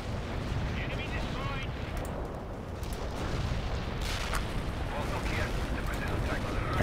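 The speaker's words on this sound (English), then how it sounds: "Add more artillery there." Sustained artillery barrage in the World in Conflict real-time strategy game, a dense continuous rumble of distant booms and blasts running throughout, loud and steady, with a voice talking over it.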